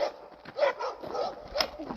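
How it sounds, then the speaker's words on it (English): Several dogs bark back and forth at an animal sanctuary, a few sharp barks and yips rising over a moderately distant, busy background, with one louder bark near the end. "Jackson and Riley are barking at us. Winnie's barking at them"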